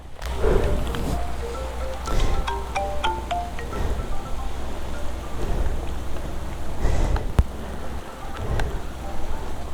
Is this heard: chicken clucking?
no